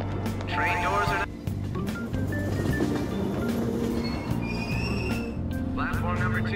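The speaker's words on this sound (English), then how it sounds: "Train doors are now closing." A subway train in the Persona 5 video game rumbles and clatters out of an Aoyama-Itchome station platform, with steady low rolling noise and faint squealing, under announcement voices.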